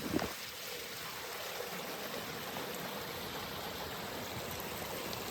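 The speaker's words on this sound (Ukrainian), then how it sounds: "вода пробила собі дорогу і стікає" Water trickles out of the forest ground and runs into a small river, a steady, soft, continuous babble close by that barely changes throughout.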